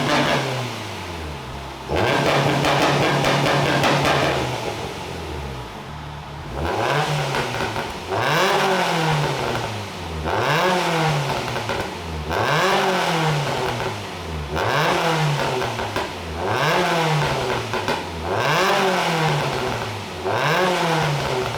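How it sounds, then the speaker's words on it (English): A Honda Civic EG with a B16 engine and PLM BISI-style headers revs repeatedly in a steady rhythm of about eight rising-and-falling blips after an initial sustained rev, loud and close, with no talking. "We're not revving it as high this time"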